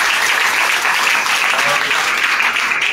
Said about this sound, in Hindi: तो उनके लिए जोरदार ताली होगी